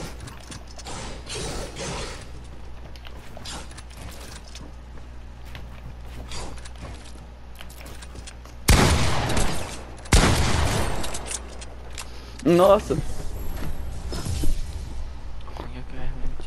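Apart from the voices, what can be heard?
pump shotgun shot in a video game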